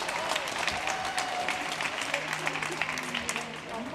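Warm audience applause at a women's gymnastics cup meet in Iceland, a continuous wash of many hands clapping in a large room, with faint crowd murmur underneath.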